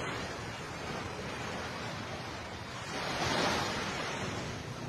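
Sea surf on the shore after the October 10, 2025 Davao earthquake: a steady broad wash of waves with wind noise, swelling louder near the end.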